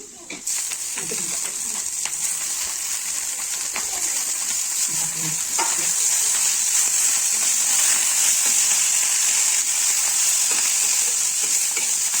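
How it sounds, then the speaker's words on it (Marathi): Chopped onion sautéing in a pan for a home-style vegetable dish gives a steady, bright sizzle that holds throughout, with light scraping and stirring clatter near the start and midway. "इथे बघा कांदा परतून घ्यायचा आपल्याला।"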